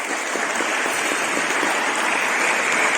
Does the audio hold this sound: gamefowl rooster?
no